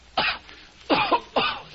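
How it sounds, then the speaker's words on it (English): A man coughs three times in short, harsh bursts, close and clear, separated by brief pauses in an otherwise quiet room. "This cough."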